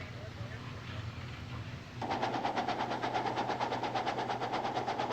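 Steam locomotive 1522 running on the rails, a steady rhythmic chuffing and rumbling that rises sharply partway through and holds loud and close, with a clicking beat over a low engine drone.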